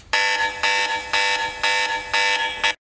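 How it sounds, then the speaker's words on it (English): A phone's flashlight alarm blares in five repeated pulses, each a harsh buzzing tone lasting about half a second, evenly spaced and close by. "It has a flashlight alarm."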